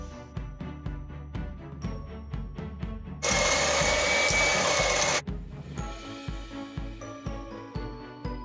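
An electric hand mixer beats egg whites for a raw beetroot sponge cake, a loud steady whirring burst lasting about two seconds in the middle, with background music playing before and after.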